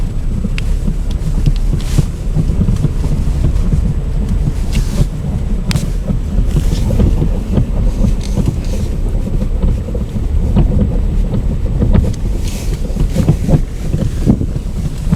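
VW Passat B5 driving on a rough, poorly surfaced street, with dull knocks from the front suspension thudding irregularly through steady low road and cabin rumble for the whole stretch.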